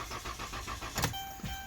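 A car engine cranks over in a regular pulsing rhythm without firing, followed by a short click and a quieter whir, fairly faint and with no talk.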